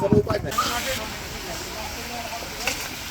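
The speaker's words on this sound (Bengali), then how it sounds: "এখন হলো চিংড়ি মাছ ভাজি করা হচ্ছে" Prawns frying in hot oil while an iftar meal is prepared: a loud, steady hiss fills the whole stretch, with a brief clatter at the start.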